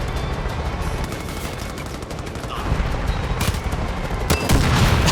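An RPG rocket is fired and explodes in midair during Far Cry 5 gameplay, amid continuous game gunfire and booms, with louder blasts toward the end.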